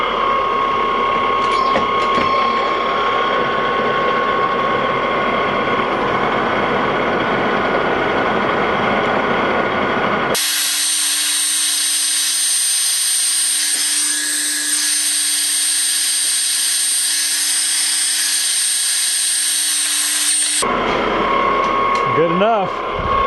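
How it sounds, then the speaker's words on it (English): A metal gear is bored on a lathe with a 1-inch carbide-insert boring bar, a steady mechanical whir and rattle broken midway by a long bright hissing cutting tone, with machinery running throughout. "with a 1-inch boring bar with just a carbide insert tip on it"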